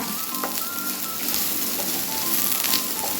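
Soya pieces frying in coconut oil in a pan for a soya masala, a steady, close crackling sizzle with scattered sharp pops, heard on its own.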